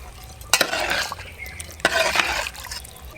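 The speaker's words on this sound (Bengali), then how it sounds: "সবগুলো দিয়ে একবার ঘেটে দিচ্ছি।" Peas, split green chillies and onion being stirred into vegetable pulao in a pot, with two distinct scraping stirs of a spoon through the wet, lightly sizzling mixture, close and clear.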